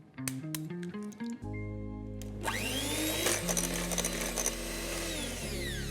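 An electric mixer whirs steadily for several seconds as eggs are beaten into marble cake batter, loud and close, with a few clinking and tapping sounds before the motor starts.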